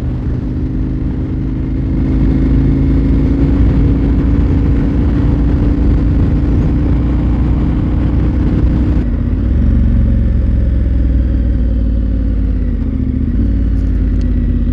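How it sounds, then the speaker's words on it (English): A KTM 1290 Super Adventure R motorcycle engine drones loudly and continuously, holding a steady mid-pitched tone that shifts slightly partway through as the bike cruises and changes gear. "Listen to that engine."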